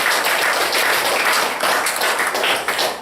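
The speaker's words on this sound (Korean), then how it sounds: "박수 한 번 더 드립니다." A crowd claps at a graduation ceremony in Seoul, producing a thick, steady wash of hand claps that stays loud and even from start to finish with no pauses.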